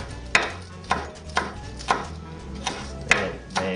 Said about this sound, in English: I'm going to chop my chives